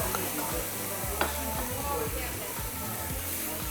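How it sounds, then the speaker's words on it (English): Yakisoba noodles frying in oil on a griddle give a soft, steady sizzle, with occasional light scraping and clatter of a utensil. Quiet voices murmur in the background. "now it's time to cook the yakisoba"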